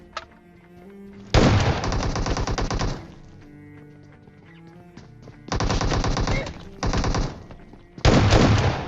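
S12 shotgun fire in PUBG Mobile rush mode comes as loud, close bursts of rapid shots, three separate volleys split by quieter stretches of game sounds.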